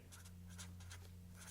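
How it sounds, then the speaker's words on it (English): A pen scratches across plain paper in short repeated strokes while drawing columns, close and quiet. "I'm going to draw my columns and write my days of the week."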